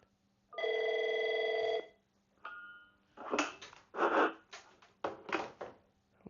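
An Avaya IP Office desk phone rings with one long electronic trill, followed by a pause and then several bursts of rustling and handling noise nearby.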